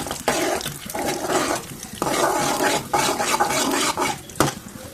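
Sesame seeds roasting in ghee in a pan, stirred with a spoon in repeated scraping, rattling strokes, each stroke a short burst of gritty noise with brief pauses between them.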